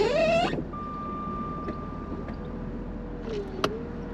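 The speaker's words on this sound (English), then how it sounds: "Let's put the roof up." Power roof on a Jaguar XKR 400 (X100) convertible closes: a whirring motor rises in pitch at the start, then a steady electric hum with soft mechanical clicks as the roof moves, close by in a quiet setting.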